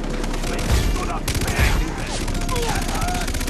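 Rapid machine gun fire in the video game Far Cry 3 rattles continuously and loudly under the players' chatter.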